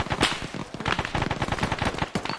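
Gunfire from the video game Arma crackles in quick, repeated bursts of automatic fire at moderate distance, with dense shots continuing throughout and no voices over them.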